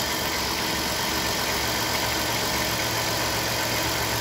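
A steady, continuous car engine idling drone with a low rumble and even mechanical vibration, close up and unchanging, heard through a mechanic's stethoscope; no voices.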